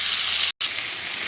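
Vegetables and spices frying hard in a pan, a dense continuous sizzle close up with one abrupt brief cut to silence partway through.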